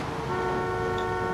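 A car horn blares in Grand Theft Auto 3, a single steady toot lasting just over a second over engine rumble.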